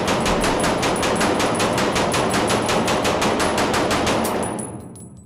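Sustained automatic gunfire from a shooter in a video game: a dense, rapid burst of loud, close shots at a fast steady rate for about four seconds before cutting off and fading, with no speech.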